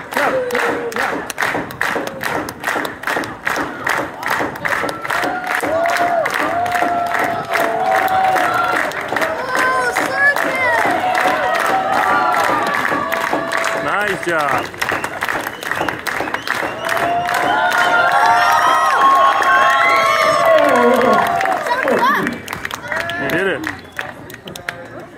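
Audience at a pier circus show claps along in a steady rhythm with scattered cheers, loud and continuous throughout, while music and a voice carry over the top.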